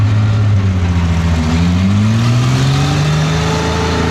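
The rear-mounted Maybach engine of a Second World War German Tiger 1 tank runs loudly nearby, a deep droning rumble whose pitch drifts slowly upward as it revs slightly, with no voices.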